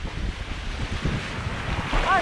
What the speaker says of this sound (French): Mais ça, les vagues que ça fait.